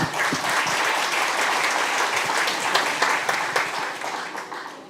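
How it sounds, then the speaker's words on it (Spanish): Steady audience applause for the panelists at a Spanish-language panel on intercultural educational leadership in Ecuador, a dense wash of many hands clapping that holds for about five seconds and thins slightly toward the end. "Un fuerte aplauso para nuestros panelistas."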